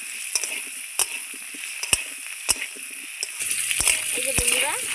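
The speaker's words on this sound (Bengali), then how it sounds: "সঙ্গে একটু হলুদ গুঁড়ো দিয়ে খুব সুন্দর আলুটাকে আমি লাল লাল করে ভেজে নেব।" Potato pieces with salt and turmeric fry in oil with a steady sizzle, punctuated by periodic utensil knocks and stirring, and a voice talks over the last part.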